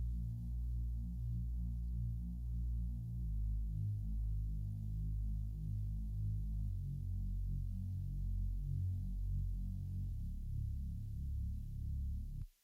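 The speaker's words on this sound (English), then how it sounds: "This is the main bass." Synthesized bass line from the Spire plugin, a wide, sustained low tone holding steady notes that shift pitch every few seconds, playing alone and loud for the whole passage before cutting off at the end.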